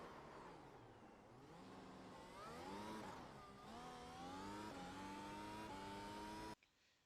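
Mercedes W12 F1 car engine in the iRacing game revving up and down through rising gear sweeps, a loud continuous high-pitched whine that cuts off abruptly near the end.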